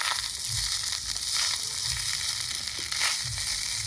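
Fried rice being mixed with black pepper in a hot pan, a steady close sizzle with repeated scraping and tossing strokes throughout.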